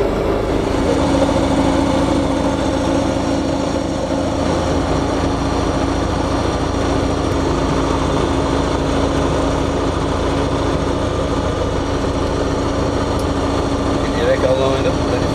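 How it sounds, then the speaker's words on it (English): A CTSW light aircraft's engine idles steadily while taxiing down a long runway, a constant droning hum with a sustained tone that runs loud and close through the whole stretch, with no break. "it's going to take us 5 to 10 minutes to taxi down this mother of a runway"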